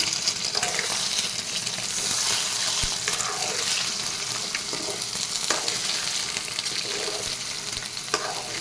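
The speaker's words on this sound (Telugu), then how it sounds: "సో ఇక్కడ బాగా ఫ్రై అయిపోయింది ఎగ్ అనేది" Country chicken eggs frying in oil in a pan, a constant close sizzle with occasional stirring scrapes and clinks, no talking.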